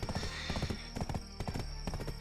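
Horse hooves clip-clop in Black Desert Online, a steady run of quick, even hoofbeats close by, continuing throughout at a moderate level.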